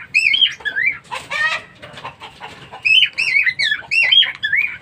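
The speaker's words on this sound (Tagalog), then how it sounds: "ipapakain na natin to sa ating alagang ibon na si Bibos." A small lovebird chirps and squawks insistently at close range while being hand-fed, in rapid bursts of rising, wavering calls with brief pauses between.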